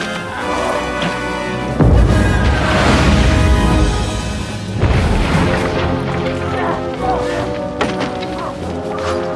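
A cannon fires during a medieval battle in the video game Kingdom Come Deliverance 2. Two heavy booms crash out early and midway, each trailing off into a rumbling tail under battle music and shouting.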